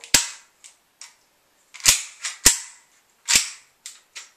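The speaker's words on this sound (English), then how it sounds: "the WeTech gas blowback Glock 17 with threaded barrel" A WeTech gas blowback Glock 17 airsoft pistol with threaded barrel fires several sharp, snappy cracks in an irregular string, each with a brief clack of the sliding action and quieter clicks between shots.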